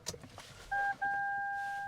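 Toyota car powering up with an Apple CarPlay head unit installed, a few soft clicks and then two steady electronic tones, one brief and one sustained, quiet and close.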